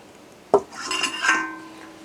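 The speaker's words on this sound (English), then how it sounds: "Let's give that a stir." A spoon knocks once against a pot, then scrapes and swirls through thick chili made with crushed tomatoes, a brief close stirring sound with a ringing metallic edge.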